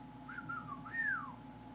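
A single person whistles a short, sliding melody that rises and falls, soft and close against a faint steady hum.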